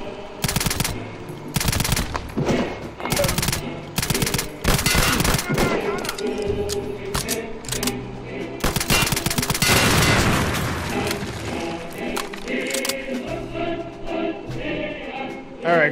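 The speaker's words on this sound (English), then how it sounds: "Brought the gunfire. Gunshots." Dense video-game gunfire from Return to Castle Wolfenstein, with loud machine-gun bursts and rapid overlapping shots crowding the first half, then continuing more steadily under a faint voice.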